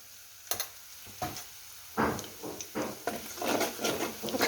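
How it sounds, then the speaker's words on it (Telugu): Spices frying for a curry are stirred in a pan, giving repeated scraping strokes over a soft sizzle that grows louder and busier toward the end, with no talk. "తర్వాత ఒకసారి కలుపుకోవాలి."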